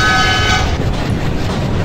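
A Jan Shatabdi Express train in Train Simulator (Railworks) sounds its horn, a brief tonal blast that fades quickly into a loud, continuous rolling rumble of the moving train.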